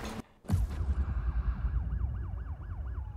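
Police car sirens in the racing game Need for Speed Payback: after a short cut-off, a loud wailing siren sweeps up and down in a steady repeating cycle over a low engine rumble, with no talk.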